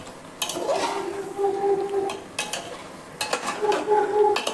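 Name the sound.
marinated meat being fried and stirred in a pan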